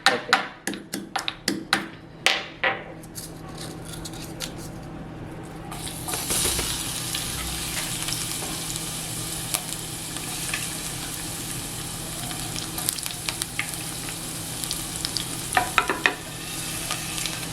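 Taps and stirring for a few seconds, then a loud, steady sizzle as unpeeled garlic hits hot oil for tempering and keeps frying, with occasional clinks of a utensil.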